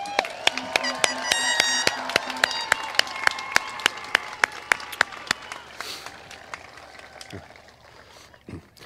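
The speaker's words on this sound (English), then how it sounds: "let's give one more round of applause for our seniors" Applause for graduating seniors at a high school graduation ceremony, heard as sharp, evenly spaced claps close by over a softer crowd background. The clapping fades out toward the end.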